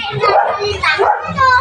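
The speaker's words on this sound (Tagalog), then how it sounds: "Ang tatapang ng aso dito, nakakatakot." A dog yips and barks in quick, excited bursts close by, with a whimpering edge to the calls.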